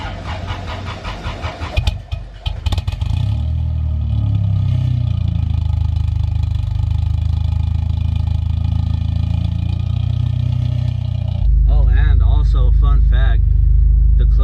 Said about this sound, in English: here's a cold start for you guys.